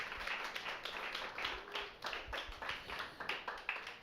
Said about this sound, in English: So I want you guys to give a big, loud round of applause for Peter Jordan.